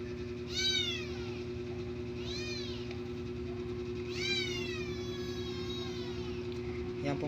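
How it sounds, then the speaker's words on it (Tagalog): A cat gives several loud, drawn-out meows nearby, separated by short pauses, over a steady low mechanical hum. "pasensya na po sa pusa po mga guys"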